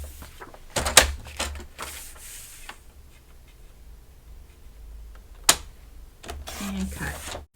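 Paper for mini notecards is sliced on a trimmer, heard as two sharp, loud chopping clacks separated by a few seconds of quieter shuffling.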